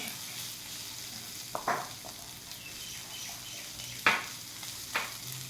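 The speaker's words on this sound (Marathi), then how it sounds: "पूर्ण मोड घातल्यानंतर परत हे हलवून घ्यायचं" Sprouted beans for Kolhapuri misal fry in a pan over a soft background sizzle, with a few distinct spatula scrapes and stirs scattered through.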